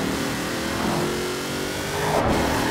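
Hot Wheels car in Forza Horizon 4 accelerating hard, its engine revving loud and continuous as it builds speed, with a brief surge in intensity near the end.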